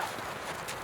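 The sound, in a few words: horse hooves clip-clopping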